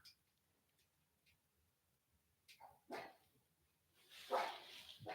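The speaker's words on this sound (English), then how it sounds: "then we have random stuff like Chanel barking" A dog gives a few short, muffled barks indoors at a distance, sparse and faint, followed by a louder burst near the end.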